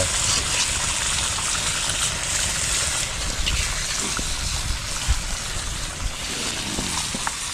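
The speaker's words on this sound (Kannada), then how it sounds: "ನೀರು ಹಾಕಿಸ್ತೀವಿ" A steady gush of water pouring continuously into a pot of chicken masala gravy, outdoors on a farm, fairly loud and close, with no talking.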